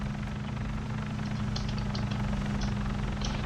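Helicopter in a driving video game set in the mountains, a steady low rotor and engine drone held at a constant level throughout, with faint higher noise above it.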